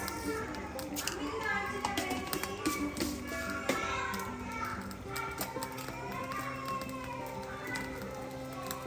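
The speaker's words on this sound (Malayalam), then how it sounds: "ഇതിന് പൊട്ടി വരട്ടെ കടു പൊട്ടി വന്ന് നമുക്കിതിലേക്ക് വറുത്തിട്ട് കൊടുക്കാം" Mustard seeds splutter in hot coconut oil in a home kitchen, giving a busy stream of sharp little crackles and taps while voices talk over it.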